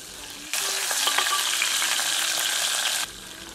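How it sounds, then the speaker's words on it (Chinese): Ginger slices, garlic cloves and chili hitting hot oil in a clay pot, erupting into a loud, dense sizzle that holds steady for about two and a half seconds before cutting off, no speech. "砂锅热油，加入姜片、蒜粒、辣椒，给它爆香。"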